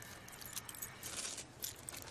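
A bunch of car keys jingles faintly as it is handed over, a soft continuous metallic tinkling with small brighter clinks against a quiet room hush.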